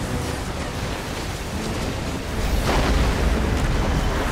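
A dockyard is destroyed in the Red Alert 3 strategy game, giving a dense, rumbling explosion that swells midway and keeps roaring as a loud wash of noise, with no talk.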